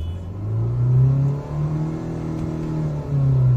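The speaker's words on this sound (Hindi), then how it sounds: "गाड़ी स्टार्ट किया और स्टार्ट करने के बाद अब आरपीएम लेते हैं" A Nissan Terrano with an RPM fault idles and revs after starting, a steady low engine drone that rises and falls in pitch across a few gentle revs, close and loud with no talk.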